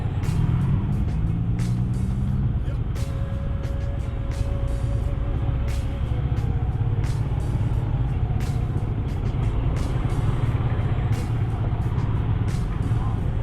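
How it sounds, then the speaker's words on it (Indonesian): Road traffic crawls in a jam on a damaged road under repair, with a dense constant rumble of car and truck engines, hissing air brakes and occasional horns close by, while a voice talks over it. "waduh, macet nih"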